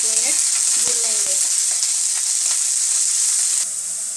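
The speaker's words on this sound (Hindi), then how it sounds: "प्याज, अदरक, लहसुन सब मिलाकर 1 मिनट भूनेंगे।" Chopped onion, ginger and garlic sizzle together in a pan for dal fry, a steady, close, bright hiss with a few stirring clinks near the start.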